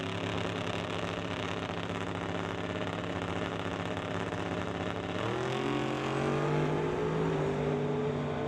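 Two drag cars, a Chevy II and a Nova, at NHRA Summit ET bracket racing sit staging with a loud steady engine drone, then launch off the line around five seconds in, their engines rising sharply in pitch as they pull away.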